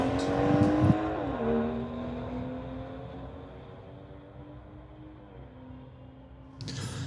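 A McLaren at a street-legal drag race gives a strong engine note that shifts pitch early on, then settles into a steadier drone that fades slightly before a fresh burst of noise at the end.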